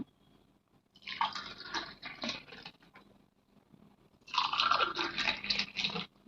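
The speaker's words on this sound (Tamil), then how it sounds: "இப்போ நம்ம கிளாஸில் சேர்த்துடலாம் ஊற்றிக்கலாம்" Homemade neer mor, a thin spiced buttermilk, is poured into a glass in two splashing, gurgling pours separated by a short pause. The sound is close and moderately loud, with no talking.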